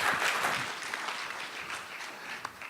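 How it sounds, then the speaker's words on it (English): Conference audience applauding after a presentation at a customer-experience summit in Singapore, a moderate round of clapping that starts strong and gradually thins out, heard without speech. "Let's give them a round of applause."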